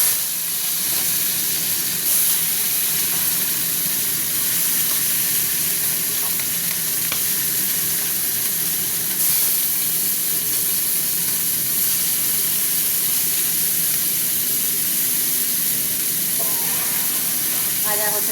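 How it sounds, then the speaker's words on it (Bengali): Amudi fish frying in a pan with a steady, close sizzle and hiss that runs throughout, broken by occasional stirring sounds and faint background noise. "ওদিকে মাছ ভাজা হচ্ছে"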